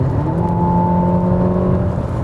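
A Mercedes GLB with a 2-litre petrol engine of just over 200 horsepower accelerates with a loud, steady engine drone heard from inside the car, and the pitch holds high throughout.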